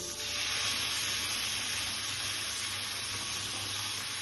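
Butter sizzles gently in a hot pan as bread is toasted for a curd sandwich, a soft continuous hiss held steady throughout.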